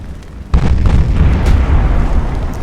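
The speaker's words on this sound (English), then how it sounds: "Getting a full broadside now." Ship guns fire a full broadside in the naval combat game Ultimate Admiral: Dreadnoughts, a sudden loud boom that gives way to a sustained rumbling roar of further blasts, close and with no talk.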